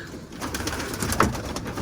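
Soft pigeon or dove cooing over a low background hum, a few murmuring calls close by with no talking.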